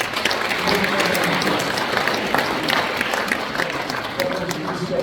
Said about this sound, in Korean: 박수로 맞이해 주시면 고맙습니다.